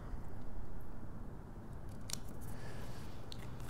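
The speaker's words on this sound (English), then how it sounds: "taking your fine tip scissors, you're just going to fussy cut this out" Fine-tip scissors fussy-cut patterned paper for a scrapbook album kit, giving a few faint, crisp snips over a steady background hiss.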